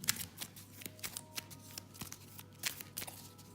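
Playing cards for the Arkham Horror card game being shuffled by hand, a series of quiet close riffling bursts at an uneven rhythm.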